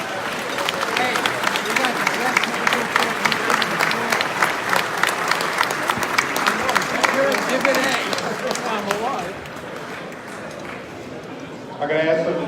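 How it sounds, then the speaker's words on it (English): A gala audience claps warmly for a special guest, a dense, sustained round of applause lasting several seconds before thinning out as a voice begins speaking. "How about one more round of applause for our special guest?"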